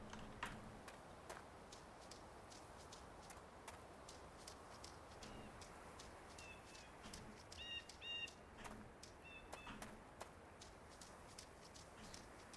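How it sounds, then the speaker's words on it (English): Birds chirp and tweet in short scattered calls over a steady outdoor ambience in The Vanishing of Ethan Carter video game, faint and distant with a few clearer bursts. "Birds."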